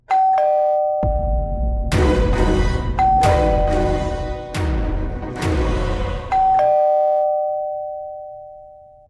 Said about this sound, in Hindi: दरवाजा खोलिए ना, घंटी बज रही है